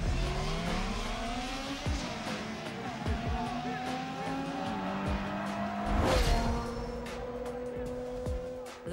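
Racing cars in the Need for Speed Underground 2 video game roar with continuous engine revving and shifting pitch as gears change, along with brief tire squeals and a whoosh of passing traffic, under steady in-game music.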